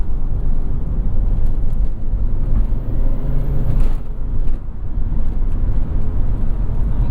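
A 1995 Volvo 850 T5-R wagon, held in 3rd gear in sport mode, drones with a loud, steady engine note under heavy road and wind noise from inside the cabin.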